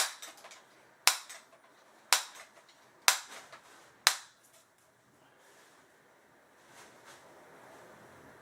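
A Crosman 760 airgun fires five sharp cracks about a second apart over a chronograph indoors, each shot snapping close and clear, followed by quiet room noise and faint handling.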